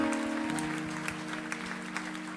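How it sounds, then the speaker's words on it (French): Congregation at a church baptism service applauding together, a steady wash of many hands clapping at moderate volume that fades slightly toward the end, with a sustained low tone underneath. "Clap for the Lord."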